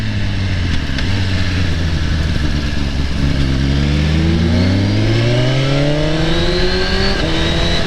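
Suzuki GSX-R motorcycle accelerates hard on the Tail of the Dragon mountain road, loud close engine climbing in pitch through rising revs with a brief shift, strong wind roar underneath.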